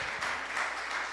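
A church congregation at a family worship service applauds: dense, steady clapping filling the short moment, moderately loud and even throughout.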